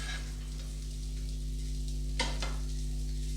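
A radish roti fries on a hot pan, giving a steady, soft sizzle with a low constant hum beneath, and a couple of brief scraping touches from a utensil.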